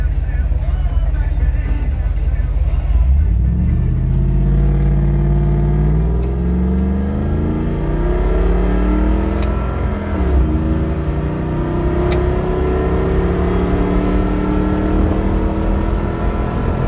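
A pickup truck with a rebuilt transmission accelerates from inside the cab, engine droning loudly as it climbs through gears with rising and falling pitch sweeps, steady road rumble underneath.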